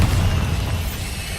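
Bombarda spell exploding in Hogwarts Legacy, a loud, dense, low booming blast that fills the whole moment with no voices over it.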